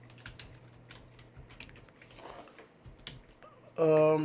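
Quick keystrokes on a computer keyboard as a Linux command is typed, a run of light irregular clicks close by, ending in a sudden louder tonal burst.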